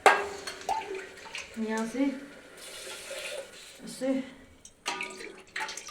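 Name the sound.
water being poured into a pot for cooking rice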